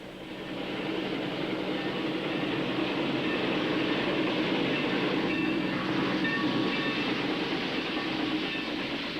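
A train running on the rails, a continuous rumbling roar that swells in and holds steady, with faint rhythmic clatter of wheels beneath, no voices.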